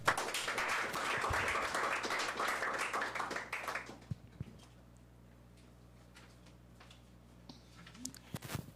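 Audience applause at a reading competition stage event, a lively burst of clapping that fades after about four seconds, leaving sparse scattered taps.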